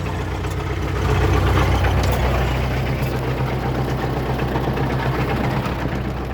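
An MTZ-80 tractor engine idles steadily out in a soybean field during spraying, a low continuous rumble holding close and fairly loud throughout with no talk over it.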